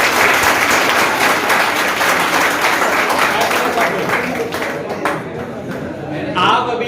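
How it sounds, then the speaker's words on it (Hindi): A crowd claps loudly in welcome for a returning guest, a former batch member, at a student motivational gathering. The applause is dense and sustained, thins out toward the end, and a voice comes in briefly at the close. "जिनके स्वागत में आप जोरदार तालियां बजा सकते हैं।"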